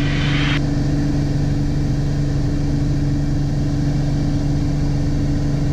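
A Piper PA28R-201T aircraft engine under climb power, a loud, steady, droning hum with a constant pitch that holds throughout with no talk.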